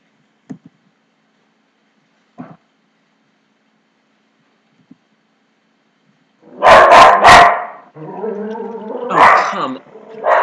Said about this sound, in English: Dogs are so inconsiderate.